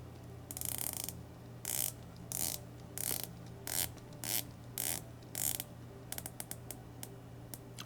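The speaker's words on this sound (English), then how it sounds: "really pronounced clicks. That's part because it's a very heavy feeling bezel." A heavy tungsten bezel on a 200m dive watch turns in steady bursts, each a cluster of crisp, pronounced clicks, then a run of lighter single ticks, close and quiet with no talk.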